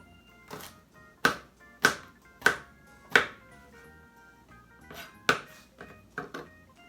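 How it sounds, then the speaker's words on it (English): Fresh ginger snapped by hand into small pieces, giving a series of sharp, dry cracks spaced unevenly about half a second to a second apart, close and fairly quiet with room hush between them. "I have a piece of ginger. I'm just going to break it up into small pieces"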